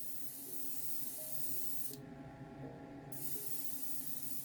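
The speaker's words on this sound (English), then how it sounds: "airbrush so that the paint is truly coming out" An airbrush spraying candy blue paint onto a small Matchbox model car gives a steady close hiss, cutting out for about a second midway, over a faint background hum.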